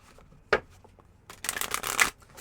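Tarot oracle cards are handled, with a sharp single snap followed by a longer, close riffle of shuffling and drawing, with no voices.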